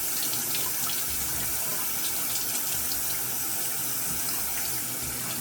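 Tap water running steadily into a sink to wet a shaving brush, a continuous close hiss and splash with no pauses and no voices.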